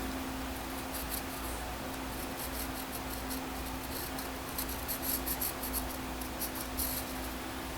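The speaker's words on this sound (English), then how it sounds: "kind of line it up where it's going to go eventually and mark it with pencil" Pencil scratching a marking line across leather for a knife sheath, a faint, steady series of light strokes over a constant low hum, with no voices.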